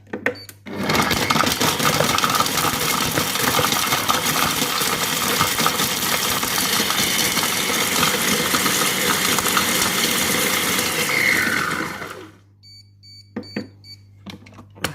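A Compact Cook Pro food processor runs at speed 8, chopping parmesan in a loud steady whirring motor roar with rattling pieces for about eleven seconds. It then cuts off, leaving a low hum and a few light clicks.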